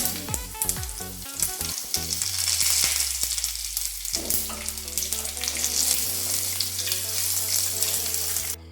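Dried red chillies and curry leaves frying in hot oil for a Kerala-style brinjal curry, a steady close sizzle and crackle that runs throughout with no talking.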